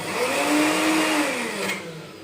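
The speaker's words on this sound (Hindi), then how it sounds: "तो मैं ये 1 चम्मच जो है ना ये फ़िलहाल पीसती हूँ।" Electric spice grinder whirring through a single spoonful of spice, a steady motor drone with a rising and falling pitch lasting about two seconds, close and fairly loud, no talk.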